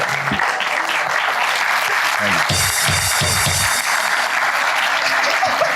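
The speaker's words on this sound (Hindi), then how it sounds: "यार, तालियां यार" Loud, sustained applause from a TV studio audience on a talk show, with a swell of cheering in the middle and a voice breaking through briefly.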